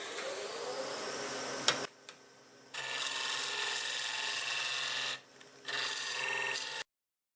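Gouge cutting the outside of a segmented wooden star bowl spinning on a lathe, a steady broadband scraping rasp in three sustained passes separated by brief pauses, close and fairly loud with no talking.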